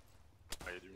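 A single sharp gunshot from an ARMA 3 military firefight rings out at mid-distance, followed by a brief rumbling tail over low background noise.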